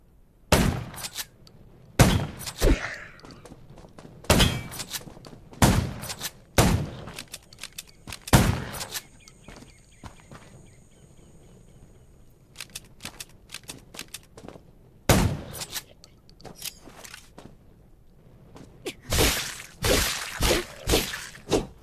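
Repeated gunshots ring out while fighting zombies in the survival shooter Undawn: loud, sharp bursts in uneven clusters with short pauses between volleys, and no talk over them.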